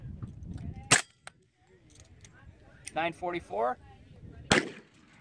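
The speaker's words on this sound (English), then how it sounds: "now we're going to try 2 rounds of full metal jacket, 40 Smith & Wesson, and 2 rounds of defense out of the D3 carbine" An integrally suppressed D3 carbine in 40 S&W fires two sharp, close reports a few seconds apart, each a short muffled crack with a brief tail. A voice speaks between the shots.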